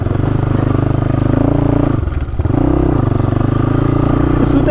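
A scooter engine runs in a steady, loud, close drone on a road near a landslide spot, with a brief dip midway and a voice speaking over it.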